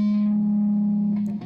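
Electric guitar run through effects, likely distortion with chorus and reverb, sustains a steady chord for a chord walk-down and rings out smoothly, loud and close. New notes pick in near the end. No voices.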